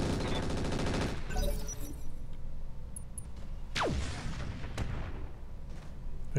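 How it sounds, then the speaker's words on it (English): Rapid machine-gun fire from a mech in Roguetech rattles loudly for about a second, followed by quieter whooshing projectiles and distant impacts. "So I'm just going to go ahead and we're going to machine gun him."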